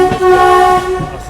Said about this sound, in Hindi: Diesel engine एल्को।